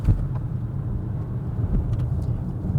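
Steady low rumble and road noise from a Volvo C40 Recharge electric car with two motors under full acceleration, heard from the cabin as a continuous loud drone.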